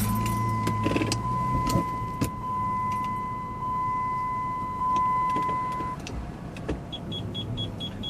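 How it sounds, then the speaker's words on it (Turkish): A Jeep Liberty idles and creeps forward and back with a low engine hum, testing a newly fitted rear-bumper parking sensor. A steady electronic tone sounds for several seconds, followed by short repeated beeps. "Aracı bir ileri geri yürüteceğim."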